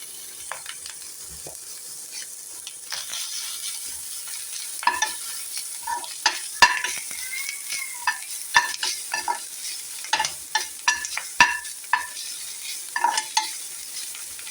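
Onions and vegetables sautéing for poha upma, a soft steady sizzle with repeated scrapes and taps of a spoon stirring in the pan, close and clear with no talking.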